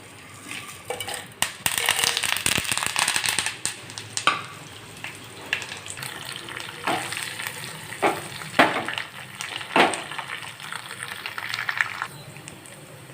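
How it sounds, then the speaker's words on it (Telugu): Spices crackle and sizzle in hot oil in a pan as the tempering for a spicy onion chutney cooks, with a steady busy frying hiss broken by sharp pops and occasional clinks of a spoon stirring against the pan. "ప్యాన్ హీట్ అయింది ఆయిల్ యాడ్ చేసుకున్నాం ఇందులో మెంతులు తప్ప మిగతావన్నీ కూడా యాడ్ చేసుకుందాం"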